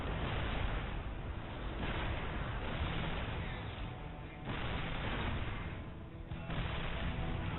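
Repeated missile volleys from Viking units in StarCraft 2 during a battle against Battlecruisers, a dense continuous barrage of bursts and booms that stays loud throughout with no talking.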